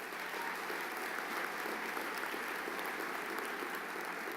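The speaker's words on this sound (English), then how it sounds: "Give yourselves a much-deserved round of applause." Steady audience applause for a 2017 graduating class at a Lynn University commencement ceremony, a dense, even wash of many hands clapping at a distance, filling the hall without pause.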